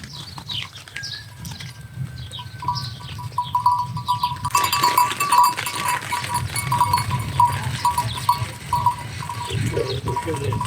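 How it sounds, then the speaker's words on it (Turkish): Sheep in a Turkish village, a flock bleating near and far over a low rumble of outdoor background noise, with hoof clatter and a busier, denser stretch in the second half. "Koyunları kapatacağız da yayacağız."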